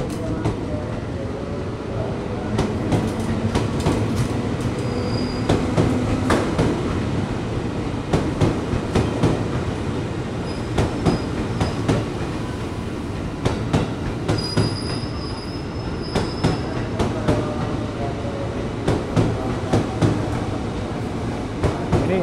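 A KRL commuter train pulls out of Jatinegara station in Jakarta, rumbling steadily with clickety-clack wheel beats and high metallic wheel squeals, with voices talking nearby.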